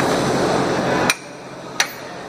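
A hammer strikes a transmission input shaft to knock the bearings loose, two sharp metallic blows about a second apart, close and clear, the first cutting off a steady background noise.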